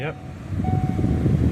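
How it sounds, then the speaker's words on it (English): A Ford Focus ST with an RS all-wheel-drive swap has its dash blower motor fan switch on. It gives a steady broadband whoosh with a faint tonal whine, loud and close, after a brief spoken word. "Let's see if we got a blower motor now."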